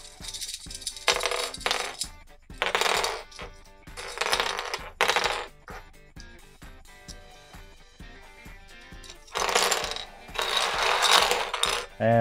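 Interlocking pieces of a Starburst puzzle from Pacific Puzzleworks slide, click and clatter apart in repeated bursts of rattling contact, close and fairly loud, with brief pauses between handling and no talking.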